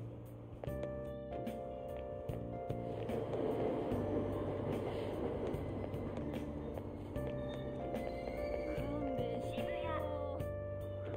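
Train ride ambience from the video game Persona 5 Royal: a steady rumbling carriage bed with layered tonal hums and chimes, and brief cat-like meows partway through.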